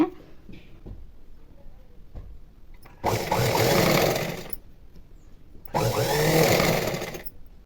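A sewing machine with a normal presser foot stitches fine thread piping into cloth, running in two steady bursts of about two seconds each with quiet pauses between them.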